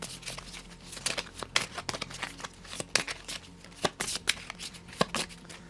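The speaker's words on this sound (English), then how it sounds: "There's a lot of shuffling with Magneto's deck." A deck of Marvel Champions game cards is shuffled by hand, fast crisp riffles and snaps repeating irregularly up close, with no talking.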